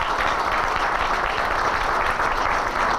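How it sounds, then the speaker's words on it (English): A crowd at a city State of the City address gives a dense, loud round of applause that holds steady and unbroken throughout. "Ladies and gentlemen, give yourselves a round of applause."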